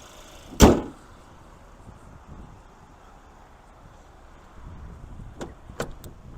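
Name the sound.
hood of a 2023 GMC Terrain being popped open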